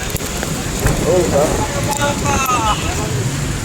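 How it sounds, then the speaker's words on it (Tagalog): Strong wind during a storm in Cotabato roars and buffets steadily around the listener, a dense blustery rush, while a voice speaks briefly over it. "biglang lumakas ang hangin"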